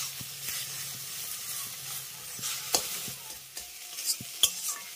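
Egg bhujia being scrambled in a pan, a steady sizzle with a soft hiss under scattered spatula taps and scrapes.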